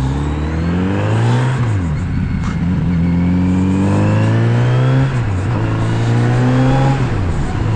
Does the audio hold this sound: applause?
no